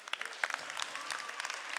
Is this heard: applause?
yes